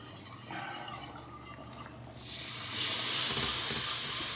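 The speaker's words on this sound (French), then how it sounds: "je vais ajouter notre liquide ici de cuisson" Cooking liquid pours into a flour roux in a hot pan, a soft sizzle and stirring giving way to a louder rushing hiss as the liquid hits.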